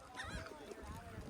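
Loud gull-like honking calls from a seagull at a summer staff cookout outdoors, repeated squawks layered over background chatter and voices nearby.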